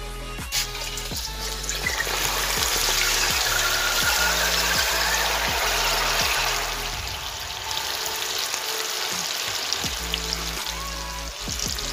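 Whole grapes dropped into hot oil, frying with a loud, steady sizzle and bubbling crackle that continues and then eases slightly before picking up again.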